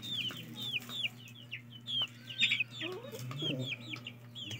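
Chickens pecking at papaya leaves on a farm, with frequent soft clucks and short chirpy calls from several birds at close range over a low steady hum.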